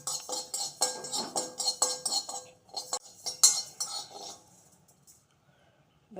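Rice dry roasting in a pan for homemade sambar powder gives off steady scraping and clinking as a spoon stirs it, in quick repeated strokes for about five seconds before going quiet.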